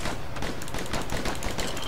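Rapid, dense gunfire from dual dueling pistols in the video game Bastion, a continuous crackle of overlapping shots at close range with no voices.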